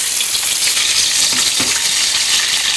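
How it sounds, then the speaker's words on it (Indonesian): Spices sautéing in hot oil for a beef rib soup, with a loud, continuous close sizzle and crackle and a few faint stirring scrapes partway through. "Minyaknya udah panas, kita tumis saja."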